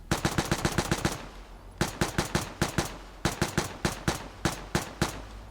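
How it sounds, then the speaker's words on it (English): Grease gun submachine gun in the video game Vigor firing on full auto in three loud bursts of rapid, evenly spaced shots, separated by short gaps. "It's a fully automatic submachine gun."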